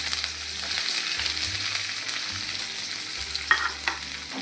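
Chopped onions fry in oil in a pan after dried chilli and cumin, with a continuous sizzle, occasional scraping stirs and a couple of sharper clinks near the end.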